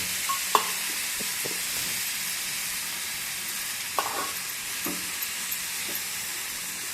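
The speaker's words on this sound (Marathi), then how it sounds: "ही गवारी आपण त्या मसाल्यामध्ये मिक्स करावी।" Cluster beans stirred into a spice masala in a hot pan, a steady frying hiss broken by a few scraping spoon knocks.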